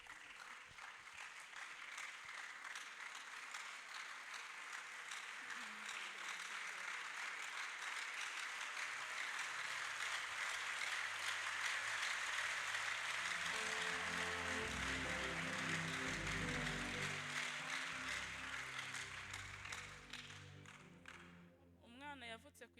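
A church congregation at an ADEPR prayer service claps and ululates in sustained, dense applause that swells and holds, while a voice speaks over the cheering and a low rhythmic musical backing enters partway through.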